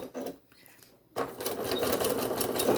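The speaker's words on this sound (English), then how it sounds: "I'm only going to stitch this little line through here." A sewing machine stitches a short line through a 6-inch log cabin quilt block, starting abruptly after a brief pause and running in a fast, steady mechanical whir up close.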